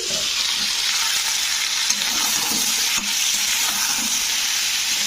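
Chopped vegetables for neem sukto, including eggplant and stalks, fry in hot oil with a steady, close sizzle while being stirred, with faint scraping strokes and no talking.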